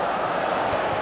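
Steady, dense roar of a stadium crowd in the FIFA 05 football game, a continuous wash of cheering and chanting at even loudness with no distinct voices standing out.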